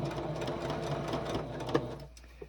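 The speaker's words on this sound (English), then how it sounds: "you want to start a few stitches in from the edge" A sewing machine stitches binding onto a quilted gingerbread star table topper, giving a steady close mechanical whir for about two seconds, then stopping, followed by a couple of small clicks.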